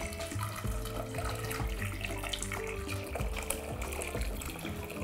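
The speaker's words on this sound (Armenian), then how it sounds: "Ավելացնում ենք եռացած ջուր, այնքան, որ կտորները ծածկվեն։" Boiled water pouring steadily into a pot for fish broth, a continuous splashing, gurgling flow heard close but fairly quiet, with no talking.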